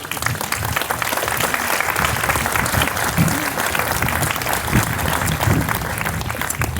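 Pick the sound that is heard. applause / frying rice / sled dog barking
applause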